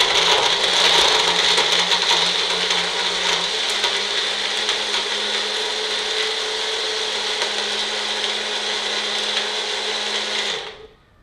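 A mixer grinder blends green juice, its motor whirring loud and steady with a low hum for about ten seconds before it switches off and winds down abruptly.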